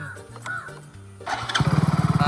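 A newly bought motorcycle's engine turns over with a few uneven cranking pulses, then catches and settles into a loud, rapid, even idle thump, close by.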